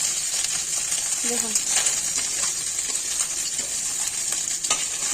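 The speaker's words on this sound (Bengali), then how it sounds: "এইভাবে সমস্ত মাছগুলো ভেজে নেব।" Piyali fish frying in hot oil, a steady bright sizzle filling the whole clip with light stirring clatter and a brief spoken word over it.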